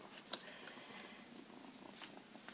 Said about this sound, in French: Vous devez l'entendre qui ronronne.